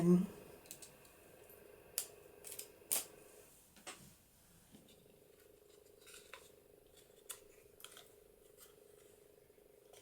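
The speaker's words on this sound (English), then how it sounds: "First of all, I'm going to cut these off" Scissors snip pieces off a handmade Christmas paper craft in a few sharp close clicks, followed by quieter ticking handling noises, with a person speaking softly.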